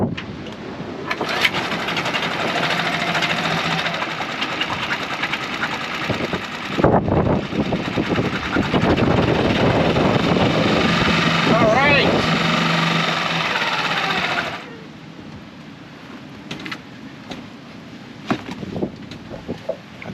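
A small outboard engine on an external fuel tank, started on half choke, runs with a steady, loud buzzing drone for about thirteen seconds before cutting out to quieter background noise.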